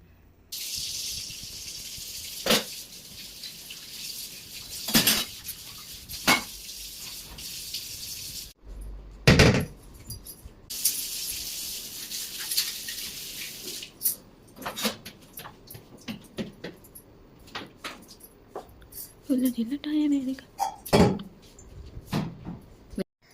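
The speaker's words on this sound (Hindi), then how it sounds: "पहले बर्तन वगैरह धुला रहेगा ना" Dishes and utensils being washed at a home sink, with scattered clinks, knocks and bursts of running tap water at close range over about twenty seconds.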